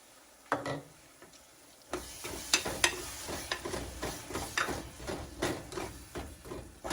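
Ground tomato and onion fry in a pan for white chickpea curry, a quiet steady sizzle broken by intermittent spoon clicks and scrapes as the mixture is stirred.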